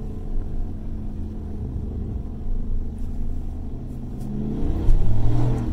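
A 2020 Chevy Silverado Trail Boss with a muffler delete, in manual mode at about 3,000 RPM, gives a loud, deep, close exhaust rumble that holds steady, then swells into a stronger rev near the end.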